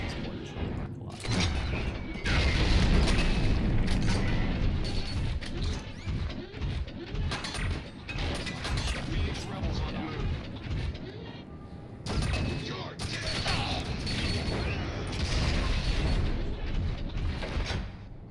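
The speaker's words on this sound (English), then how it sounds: "These mortars really work a lot." Mortar fire in the video game Tribes: Vengeance, repeated booming launches and blasts with mechanical clanks over a constant noisy battle bed, loud and dense.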